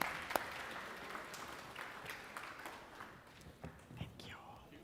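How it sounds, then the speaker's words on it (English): An audience applauds a panel at an intra-African trade fair in a convention centre, producing a soft, steady patter of clapping that stays fairly distant and low in level, with faint murmuring mixed in. "Just give them a round of applause."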